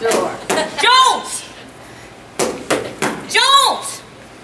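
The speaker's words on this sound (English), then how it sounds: "Mama's banging on the door." Someone bangs on a door in a series of loud, sharp knocks, two quick clusters about two seconds apart, with a voice calling out over the second set.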